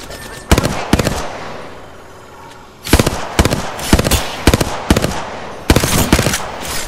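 Video game gunfire: sharp, loud, close bursts of automatic shots, a few isolated cracks early, then a pause, then repeated short volleys in a quick uneven rhythm.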